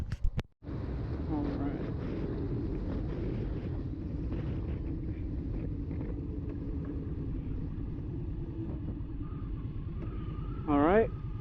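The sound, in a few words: Indian Scout motorcycle riding on first test drive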